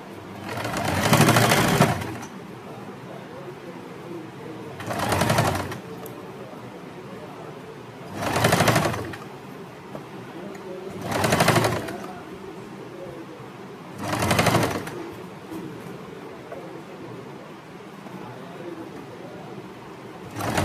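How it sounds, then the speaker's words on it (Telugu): Sewing machine top-stitching a lined kurti at the shoulder and back neck, running in five short bursts of about a second each with quiet pauses between, close and clear with no talk. "ఇప్పుడు ఫస్ట్ అయితే దీన్ని ఇలా ఒక టాప్ స్టిచ్ చేసుకోవాలి"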